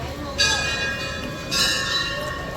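Temple bells at the BAPS Hindu temple in Abu Dhabi, ringing in two clear metallic bursts with long shimmering overtones that linger between strikes, set against a faint open-air background.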